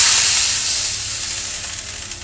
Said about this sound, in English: I'm gonna drop in my sauce.